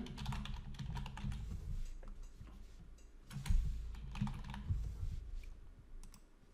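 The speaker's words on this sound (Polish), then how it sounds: "Wpisujemy pierwsze litery" Close, quiet typing on a computer keyboard, bursts of rapid key clicks with short pauses between them, no talking.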